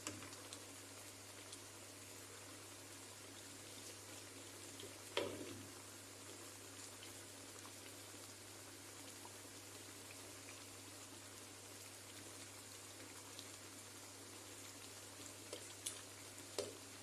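String beans and sardines sauté in a pan with a faint, steady sizzle that runs the whole time, with a few soft pops or stirring clicks and no talking.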